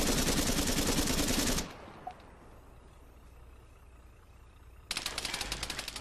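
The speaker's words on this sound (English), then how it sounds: "I've just heard enemy gunfire just in front of me" Rapid automatic gunfire in the video game Arma 3 rattles loudly, stops for a few seconds of quiet rumble, then starts up again in another sustained burst.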